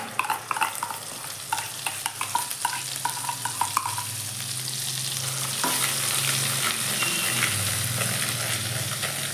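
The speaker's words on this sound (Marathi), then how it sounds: "आता हे तेलात चांगला भाजून घ्यायचा।" Ground masala spice paste frying in hot oil for masala matar paneer gives a close, steady sizzle. Scraping stirs tap through it in the first few seconds before it settles into an even crackle.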